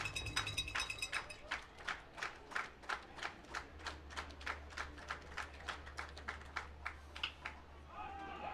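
A baseball crowd claps in steady rhythmic unison behind the pitcher at an 0-2 count, Welland Jackfish at Barrie Baycats, about twenty crisp claps spread across the stands, moderately distant.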